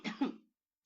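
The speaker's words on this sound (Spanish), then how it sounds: "Perdón, tengo mucha tos." A single short cough from a lecturer, one quick muffled burst close to the microphone, followed by silence.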